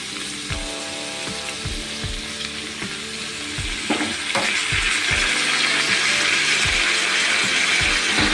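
Rice stir-fried in a pressure cooker over a medium-low flame gives a steady close sizzle, with repeated scraping stirs thumping through it. The sizzle grows slightly louder partway through.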